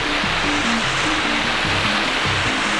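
Waterfall roaring steadily in steep, slick New Zealand mountain terrain, a loud, dense rushing wash of water close by, unbroken for the whole stretch with no voices.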